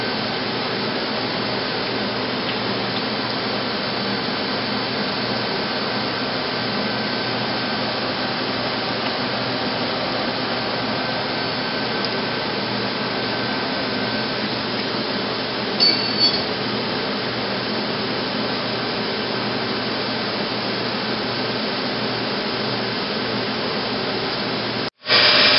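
A Mazak Multiplex 6200Y multi-axis CNC lathe runs with a steady, dense mechanical hiss and whir that holds level throughout, with a couple of brief clinks near the end before a sharp cutoff.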